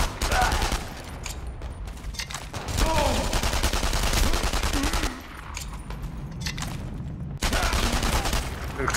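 A machine gun crew firing in the WWII shooter Enemy Front: loud bursts of automatic fire come in three long volleys separated by short lulls, with someone speaking faintly among the shots.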